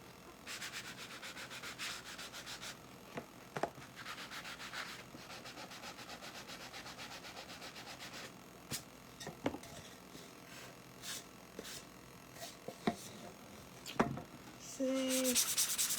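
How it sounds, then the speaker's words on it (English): Sandpaper rubs steadily by hand to take white paint off a surface, a continuous close scratchy hiss with occasional sharper strokes, and no talking. "Let's see if I can sand that part off"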